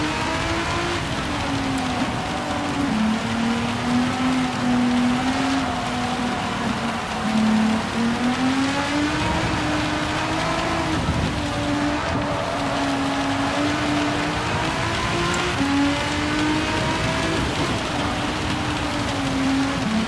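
A race car driven in the rain in Gran Turismo 7, its engine holding a steady droning whine that rises and dips with the throttle over a constant hiss of spray and rain, loud and continuous throughout.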